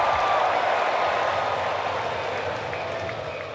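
A baseball crowd at Truist Park during a Padres vs Braves game cheers and applauds in a sustained roar of clapping that slowly fades, with faint stadium tones sounding above it.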